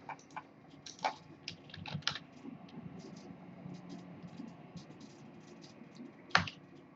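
Keys clatter on a computer keyboard as code is entered, with quiet, irregular bursts of clicks and one sharper tap near the end, all close and without talk.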